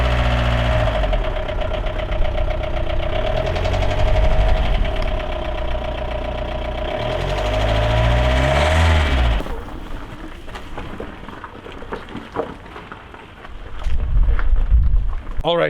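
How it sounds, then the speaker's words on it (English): An old, high-mileage VW Golf engine idles close by with a loud, rough, knocking hum, then cuts to a quieter stretch of faint clatter before the engine noise swells again; a voice speaks partway through. "The engine is running."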